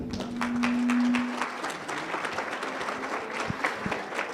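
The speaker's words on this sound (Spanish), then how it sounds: "Un fuerte aplauso." An audience at a forum gathering applauds as a speaker is called to the stage, a dense steady patter of clapping with a faint sustained tone near the start and the applause thinning toward the end.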